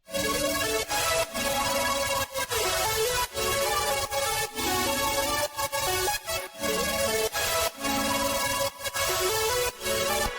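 Loud, bright layers of synth pads shimmer with a crystalline, icy texture. They pulse in chopped rhythmic bursts with brief gaps, and no voices are heard.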